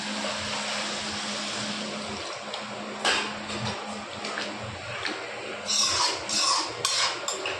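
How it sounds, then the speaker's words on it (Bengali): Water poured into a pot of bottle gourd curry cooking on a gas stove, giving a steady hissing, splashing wash with a few brighter clatters and bubbling bursts toward the end and no talk. "আমি এখন এখানে দিয়ে দেবো একটু হালকা জল"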